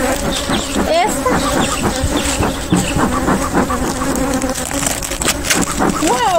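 Bees buzzing around a beehive opened for honeycomb and wax harvesting, a dense continuous drone close by that stays loud throughout, with no one speaking.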